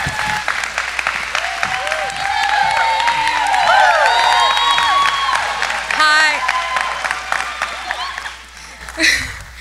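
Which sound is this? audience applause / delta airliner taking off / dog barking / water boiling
audience applause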